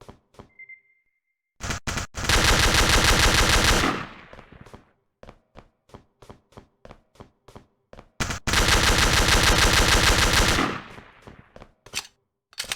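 A gunfight against soldiers in the FPS Creator game Darkest Island: two long, loud sustained bursts of automatic fire, each followed by a run of sharp single shots, with near-silent gaps between.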